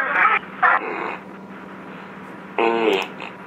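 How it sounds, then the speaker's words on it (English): A fart sound is played over a phone line during a prank call, with a few short, buzzy bursts and a longer one near the end, thin and filtered. "I just farted. What do you think of that?"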